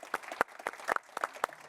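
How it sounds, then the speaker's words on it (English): Sparse clapping from a small audience at a corporate panel discussion, with a handful of distinct, separate claps rather than a full ovation. "Round of applause."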